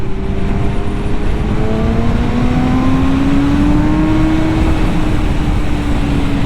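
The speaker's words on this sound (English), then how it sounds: "Oh my gosh, this R6 really pulls away." A Yamaha R6 motorcycle engine accelerates after a long spell off the road, producing a loud, continuous drone that climbs slowly in pitch and holds steady throughout, with no one speaking.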